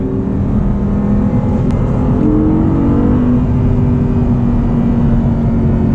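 Audi R8 V10 with a gated manual transmission revs hard toward its 8,500 RPM redline, a loud, close engine note whose rising harmonics sweep upward steadily across the run, heard alone without talk.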